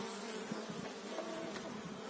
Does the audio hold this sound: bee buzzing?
yes